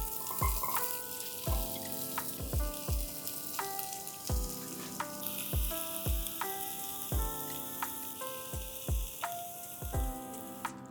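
Onions, green garlic and mixed vegetables sizzle in oil in a pan, with a steady frying hiss broken by repeated rhythmic scraping and clanking strokes of stirring, close up and without talk.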